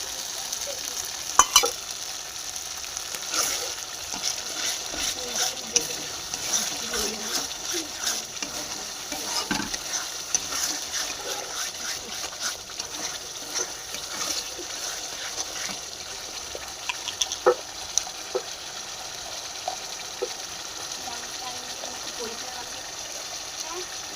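Chicken sizzling and frying in a pan of oil as sour yogurt is added, a steady crackling hiss with scattered pops and stirring scrapes, a voice speaking over it.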